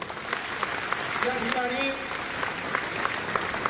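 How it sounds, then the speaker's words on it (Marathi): An audience applauds to welcome a new member joining a political party in Maharashtra, steady crowd clapping running throughout while a speaker talks over it. "सगळ्यांनी एकदा जोरदार टाळ्या वाजवून"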